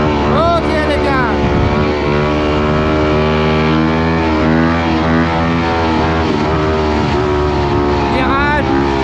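A four-stroke motocross bike rides through city streets, its engine droning loud and continuous with pitch sweeps as the rider shifts and revs, under wind buffeting.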